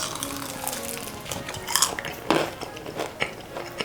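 Crunchy bites into a cooled, twice-fried crispy buffalo wing coated in sauce, several sharp close crackles and chews in a row with no talking.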